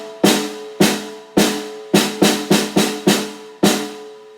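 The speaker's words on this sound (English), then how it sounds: "The normal way is with the snares on would sound like this." Snare drum struck with its snares engaged, nine sharp, bright cracks with a crisp buzzing rattle and short decay, loud and close, in an uneven rhythm that clusters in the middle, no speech.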